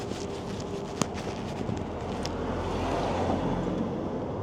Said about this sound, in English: Sorry about the noise of the vehicle.